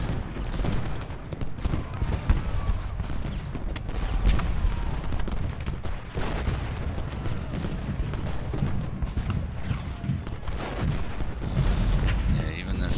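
Cannon artillery fire in a Gettysburg strategy game battle, a steady din of overlapping booms and gunfire rumbling continuously at moderate loudness with no clear pauses.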